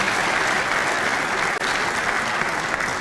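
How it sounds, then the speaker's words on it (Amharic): Steady, loud audience applause from a crowd at a comedy or talk event, continuous clapping filling the whole moment with no voices on top. "አጨብጭቡ እስቲ በደንብ።"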